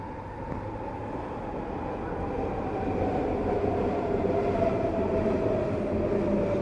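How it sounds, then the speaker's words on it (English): A train rumbles past steadily, a continuous rolling roar that grows slightly louder as it goes, with no voices over it. "I'm not even counting those trains, it's at least one a minute."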